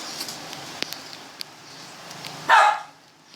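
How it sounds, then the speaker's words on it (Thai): A dog barks once, a short loud burst near the end after quiet background clicks and ticks, heard while someone plays Minecraft. "ถ้าที่เสียงหมาเห่าก็ขออภัยด้วยนะครับ"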